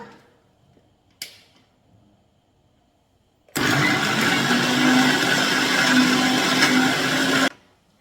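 A mixer grinder grinding aloe vera without water whirs loudly and steadily for about four seconds, starting abruptly and cutting off sharply, after a brief click and quiet moments.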